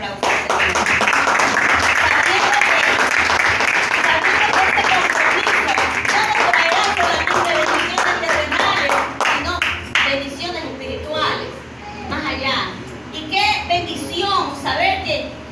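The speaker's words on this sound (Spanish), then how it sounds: "Denle un fuerte aplauso." Church congregation applauding loudly and steadily, with a few children's voices mixed in, the clapping thinning into scattered claps toward the end.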